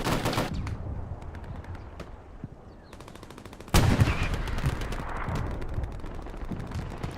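Gunfire from a World War II North Africa skirmish game, Afrika Korps against the British 8th Army at El Alamein: dense, continuous rattling shots with a louder burst midway and sustained firing after.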